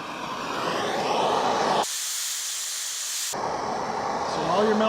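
Heat melts the top layer of plastic slide pucks for a longboard glove palm, with a steady broad hiss and a brighter, harsher stretch of noise in the middle.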